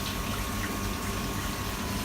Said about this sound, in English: I've turned the pumps back on